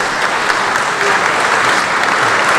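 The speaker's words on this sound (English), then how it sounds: "please stand up so we can give you a round of applause as well." Steady audience applause fills a hall at a county Republican Reagan dinner in Obion County, Tennessee, a dense, even clapping that holds loud and unbroken from start to finish.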